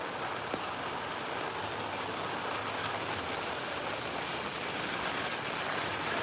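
Heavy rain falls on a flooded street in Virar West, a steady, dense hiss of water that stays even and unbroken throughout, with a faint low rumble of traffic beneath.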